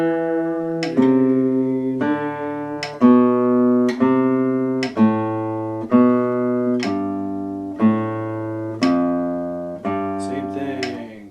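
An acoustic guitar plays the last two measures of an exercise line, starting on D on the fourth string. About ten single plucked notes ring at an even, moderate tempo, clear and close, each decaying before the next.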